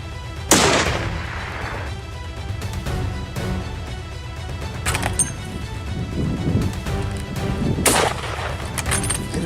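Rifle shots ring out at coyotes in open country in northern New Mexico, three loud cracks spread several seconds apart, each with a booming tail and echo over a rumbling outdoor background.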